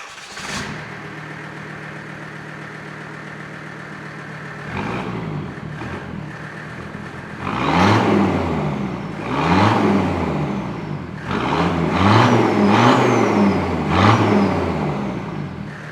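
A diesel Jeep Cherokee with a side exit exhaust idles faintly at first, then its engine starts with a thump. A rough idle follows, then four or five sharp revving blips that rise and fall, loud and close.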